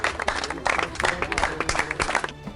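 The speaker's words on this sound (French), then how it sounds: "Applaudissez très très fort" Loud audience applause for a best student award at a school event in Kisantu, dense clapping and crowd noise filling the clip before tailing off near the end.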